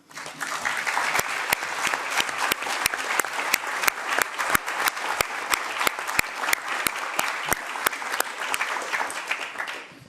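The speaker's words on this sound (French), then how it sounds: "On peut déjà tous l'applaudir." A room at the European Parliament applauds to welcome a guest, a steady crowd of clapping with sharp, rhythmic individual claps standing out near the microphone, continuing for about ten seconds before tailing off.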